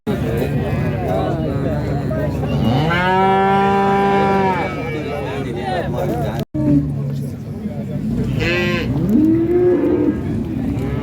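Calves and cattle moo loudly at a crowded livestock market in Xaçmaz, two long close bellows rising over steady chatter and people talking.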